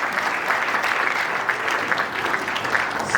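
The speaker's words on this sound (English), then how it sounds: "a big round of applause for the Right Honourable Prime Minister" A round of applause for a Prime Minister at a book launch ceremony, a steady even wash of many hands clapping from a crowd, moderately loud and sustained throughout with no voices over it.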